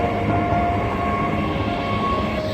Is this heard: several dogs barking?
no